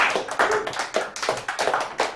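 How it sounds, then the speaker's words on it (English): Live audience at a Portland comedy show clapping after a comic is introduced, a steady mid-loud patter of many hands lasting a couple of seconds with uneven bursts and no talking. "Please applaud here."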